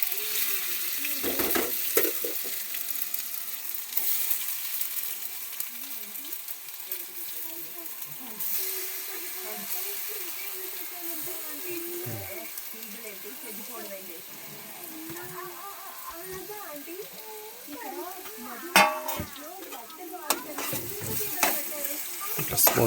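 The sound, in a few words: carrot paste frying in oil, stirred with a spoon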